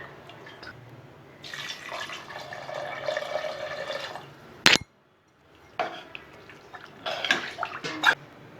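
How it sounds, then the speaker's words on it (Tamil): Water pours into a pot of country chicken salna in a kitchen, a moderate splashing stream lasting a few seconds, followed by a sharp metallic clink, a brief pause, then more splashes and clinks of utensils. "நான் நல்லா தண்ணி மாதிரி வைக்கிறனால கொஞ்சம் தண்ணி வந்து அதிகமாகவே சேர்த்துக்க போகிறேன்"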